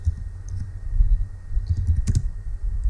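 Keys clatter on a computer keyboard as text is typed in short irregular bursts, close and clear, with a faint steady tone in the background and no talking.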